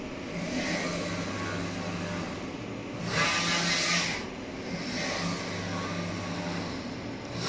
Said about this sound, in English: Print white, color, varnish by one pass with high resolution.